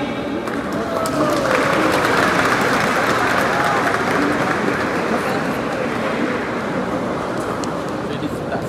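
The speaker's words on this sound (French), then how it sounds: "peut-on applaudir une fois de plus Madame Djigeba?" Steady, sustained applause from a large crowd at a university graduation ceremony in Cap-Haïtien, Haiti, a dense wash of clapping that holds evenly throughout.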